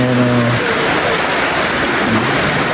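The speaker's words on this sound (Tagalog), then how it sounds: "Sobrang lakas ang ulan." A heavy downpour roars steadily and close throughout as a dense, even hiss of rain on surfaces, with a brief low tonal hum near the start.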